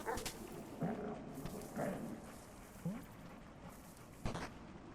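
A dog in a video game reacting to a thrown disc, giving short whimpering yips and soft barks spaced across the clip over a busy game background, with a sharp thud near the end.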